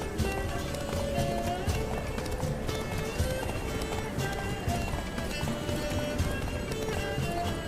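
Steady hoofbeats of a galloping horse in The Witcher 3: Wild Hunt – Blood and Wine, over a dense, continuous background of game music and effects, with occasional voice snippets.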